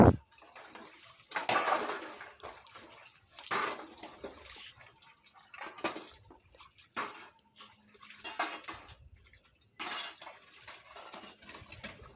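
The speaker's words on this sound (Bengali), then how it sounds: "তাই এখানে আমি একটু গামলাতে জল রেখে দিই" Water splashes and pours into a basin in a home kitchen in several separate bursts, with clinking of pots and dishes between them, close by and without talk.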